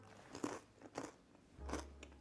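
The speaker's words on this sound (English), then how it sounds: "I snapped off a few so you could see how crunchy they are." Sweet and salty seed crackers snap and crunch in several distinct bites with chewing between them, close and quiet, with no talking.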